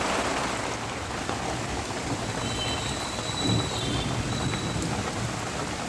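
Heavy rain pours steadily outside, a dense continuous hiss of drops on surfaces, with a low rumble of thunder swelling briefly near the middle; no voices.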